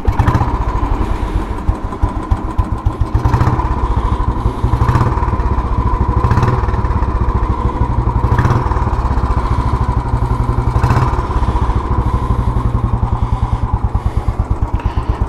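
A cast iron Royal Enfield motorcycle engine runs loud and close after sitting idle, a steady thumping single-cylinder beat with slight rises in revs.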